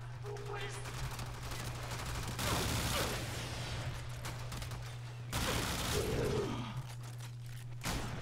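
Kuva Kraken alternate fire in the Warframe video game, heard as a few bursts of loud gunfire over a steady low game hum, with gaps between volleys.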